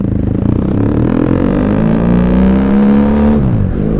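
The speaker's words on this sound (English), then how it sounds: "This bike comes to life now that baffle killer, or the DB killer's out." A BMW GS motorcycle with its dB killer baffle removed revs loud and close, its deep exhaust note climbing in pitch and then dropping off near the end.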